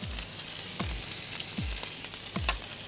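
Turmeric, salt and spices sizzle steadily in hot oil, with four sharp low thuds spaced evenly, like a spoon knocking the pan, over a constant close frying hiss.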